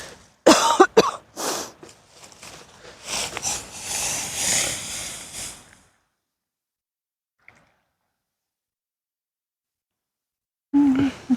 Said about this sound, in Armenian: Ինչ ես հազում եք։